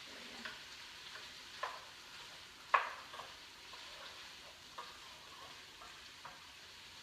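Peeled, deveined shrimp cook quietly in a pan, a soft low sizzle with occasional light scrapes and taps of stirring, one sharper clink standing out.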